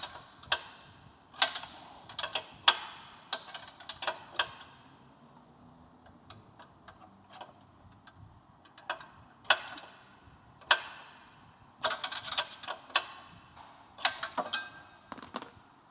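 Wrench tightening the inner nut on a Yesoul S3 exercise bike, producing bursts of sharp ratcheting clicks separated by quiet pauses, close and clear with no talk.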